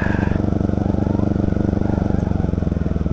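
A motorcycle rides slowly through below-freezing cold, its engine chugging in a steady, even low rhythm throughout, close and loud with wind noise on top.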